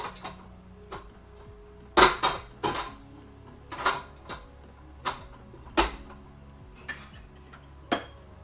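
Metal utensils clink and clatter as someone rummages through kitchen tools looking for a whisk, about ten sharp, irregular knocks and rattles spread over several seconds, close by with quiet pauses between.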